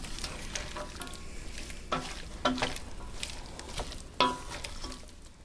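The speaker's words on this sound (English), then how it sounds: "we have to saute these off for about 3 to 5 minutes" Cubed chicken sautéing in a pan for a curried chicken and sweet potato stew, giving a steady soft sizzle with a few sharper clatters of stirring, close and alone.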